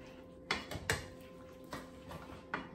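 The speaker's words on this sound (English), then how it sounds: "he's just mixing it as I'm dropping everything in there" Shrimp and noodles being stirred into thick whipping cream in a pan, with several distinct clanks and scrapes of a utensil against the pan over a quiet background hum.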